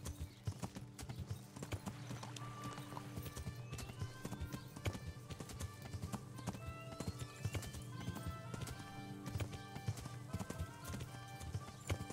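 Horses riding in Kingdom Come, with steady clip-clop hoofbeats trotting along at a quick, even rhythm, brief whinnies mixed in, all under a layer of background music.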